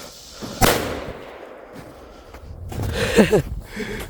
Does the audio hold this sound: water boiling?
no